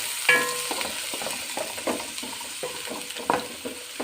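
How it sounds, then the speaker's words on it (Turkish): A large onion sizzles and fries in hot oil in a pot, with stirring and scraping clatter breaking over a steady close sizzle; no voices. "bir adet büyük boy soğanımızı ilave ediyorum güzelce kavuracağım"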